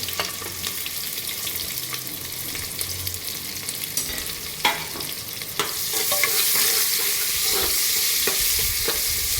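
Onions frying in a pan for a village-style chicken curry, a steady close sizzle with repeated spoon scrapes and clicks as they are stirred, growing slightly brighter and louder partway through.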